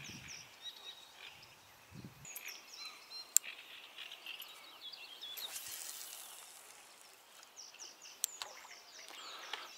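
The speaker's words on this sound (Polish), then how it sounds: "Ptaszki śpiewają." Birds sing by a river, a scatter of faint, high chirps and short trills spread across the stretch with no voices, a low distant rumble at the very start.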